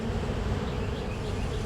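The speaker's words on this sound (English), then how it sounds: "And there are some bees in there." Honeybees buzz inside a hive box, a close, dense and steady hum with no voices.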